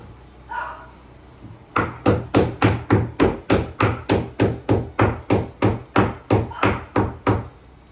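An IKEA PAX wardrobe panel is struck with a screwdriver handle in a run of about twenty evenly spaced, solid knocks, loud and close, after a short faint sound at the start.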